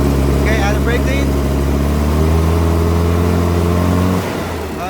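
A Komatsu forklift with a no-power-under-load fault revs up, its engine droning loudly and steadily before dropping off near the end, while a voice talks over it.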